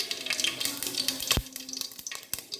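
Mustard seeds crackle and sizzle in hot coconut oil in a pan while a jackfruit seed dish is being cooked, giving a steady close frying hiss with a few sharper pops.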